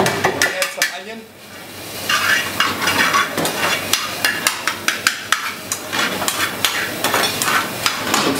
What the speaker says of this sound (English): we're going to start it on the high pressure burner. We're going to add some onion.